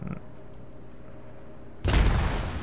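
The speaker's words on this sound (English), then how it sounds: "So he's actually going to choose to fire his guns at me." An enemy ship fires its naval guns in World of Warships, aimed at a tier 6 Molotov cruiser: after a low, quiet hum, a single heavy boom suddenly hits and rumbles on loudly.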